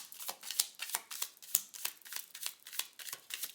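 Tarot cards riffled and shuffled by hand, a rapid run of crisp papery flutters and snaps repeating in quick bursts, close and clear with no talking.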